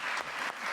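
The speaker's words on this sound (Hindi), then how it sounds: "तालियां हैं।" Studio audience on a Pakistani comedy talk show applauds steadily, a dense, even wash of clapping filling the whole short moment with no voices over it.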